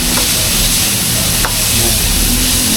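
Eggplant stir-fries in a pan over high heat with a loud, dense, continuous sizzle and crackle that stays steady throughout.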